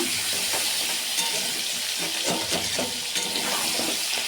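Potatoes and green peas fry in a hot wok for a winter aloo dum, a steady loud sizzle with scraping stir sounds running throughout, close and continuous with no talk.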